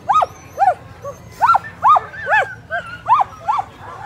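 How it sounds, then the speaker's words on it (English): A sled dog at the Fur Rondy race in Alaska barks and yips repeatedly in quick, eager bursts, loud and close, about ten calls in four seconds over faint background murmur. "the wheel dog wants to go"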